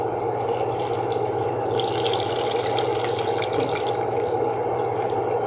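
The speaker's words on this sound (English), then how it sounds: "I am going to add in a little bit of water to fill in the space." Water pours steadily from a tap into a pot of corned beef broth, a continuous close, loud splashing rush that carries on without a break, over a low hum.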